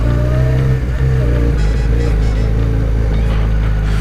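A BMW motorcycle engine drones steadily and loudly while being ridden on a sunny cruise, with a constant low rumble, a slight rise in revs midway and wind noise throughout.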